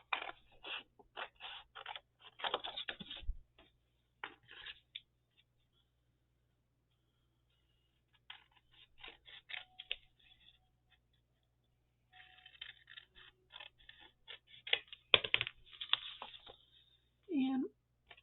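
Scissors snip through a cardboard file folder in short bursts of crisp cutting, with pauses between runs and quiet handling noise, close and fairly soft.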